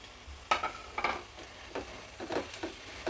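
Mashed boiled potato being stirred into a frying mixture in a pan, a series of soft scraping and squelching strokes over a low sizzle, close and fairly quiet.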